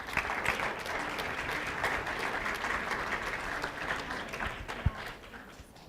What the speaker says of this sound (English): let's give a round of applause for the presenters